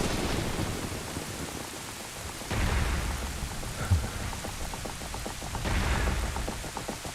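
Steady rain with rolling thunder from the video game Zelda: Ocarina of Time. The rain hiss is continuous, and low rumbles swell at a few points. No voices are heard.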